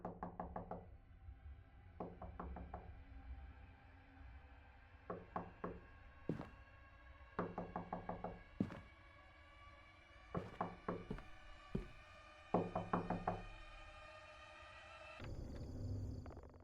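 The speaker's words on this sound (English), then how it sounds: "Luckily, it's just Billy at the door, here to give us our tower supplies." Knocks on a wooden door in the horror game Fears to Fathom: Ironbark Lookout come in several separate bursts of three to five quick, hollow raps. They sound fairly close, over a faint low ambient drone with a few single thuds.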